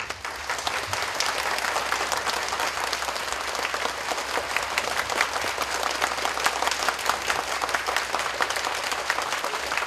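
A seated audience applauds distinguished guests at a formal event, with dense, steady clapping from many hands that stays loud and even throughout.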